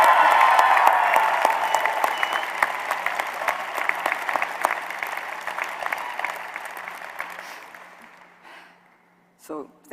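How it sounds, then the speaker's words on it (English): Applause from a crowd at a medical school graduation convocation, a dense burst of many hands clapping that gradually thins and fades out, followed by a short spoken word at the end. "why don't we give an applause to the first woman Surgeon General of the United States that is here today"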